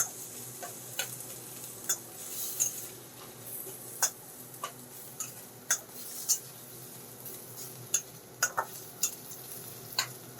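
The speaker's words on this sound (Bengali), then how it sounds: "এবার আমি কাঁচা পেঁয়াজ আমি ভেজে নেব" Raw onions frying in a pan for bread pakora, a steady soft sizzle underneath with frequent sharp clicks and scrapes of a utensil stirring against the pan, close and moderately quiet, no voices.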